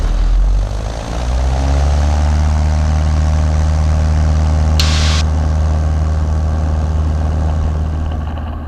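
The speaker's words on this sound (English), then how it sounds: "Trigger fuel 9 Hotel Kilo departing the runway 28 and approach to the east." A propeller-driven airplane roars loudly and steadily as it departs runway 28 at a fly-in airshow, its engine drone sustained and close throughout with no talk.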